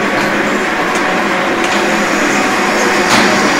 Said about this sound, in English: These are some guys working on the manual lathe here.